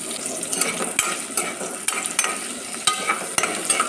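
Ginger, garlic and green chilli sauté in hot coconut oil inside a pressure cooker, a bright steady sizzle punctuated by sharp metallic scrapes and taps of a spoon against the pot, with no voices.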